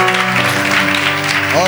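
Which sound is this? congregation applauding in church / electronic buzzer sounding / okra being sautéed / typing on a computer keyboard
congregation applauding in church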